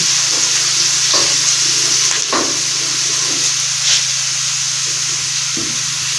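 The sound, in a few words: garlic ginger paste frying in hot oil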